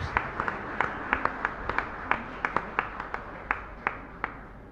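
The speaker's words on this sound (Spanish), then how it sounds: "un fuerte aplauso para todos nosotros" Scattered, sparse clapping from a small congregation at a Catholic Mass in a chapel, quiet and somewhat distant, with individual claps standing out rather than a full ovation.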